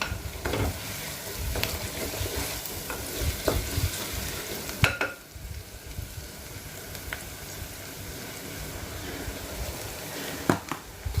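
Minced mutton keema frying in a clay kadai sizzles continuously up close while a spoon stirs and scrapes through it, with irregular knocks against the pot and no speech.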